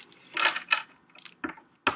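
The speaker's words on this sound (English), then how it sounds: "Let me get one more shuffle in." Tarot cards are shuffled by hand in a few soft, irregular bursts of papery flicks and taps, close and fairly quiet, with short pauses between them.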